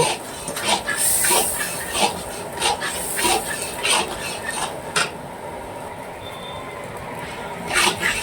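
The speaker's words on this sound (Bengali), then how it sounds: "এবার টমেটো কিছুক্ষণ কষাবো।" Tomatoes sauté in a hot pan with a steady, close sizzle, broken by repeated scraping and stirring strokes of a spatula against the pan.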